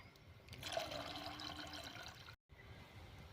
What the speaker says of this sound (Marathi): आता गरजेनुसार आपण यामध्ये पाणी टाकूया.